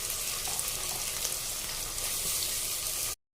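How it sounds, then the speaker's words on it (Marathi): Tomatoes fry with onions in a pan for masala khichdi, a steady close hiss of sizzling that runs evenly for a few seconds and then cuts off abruptly. "कांदा आपला आता त्यात मी टोमॅटो टाकते"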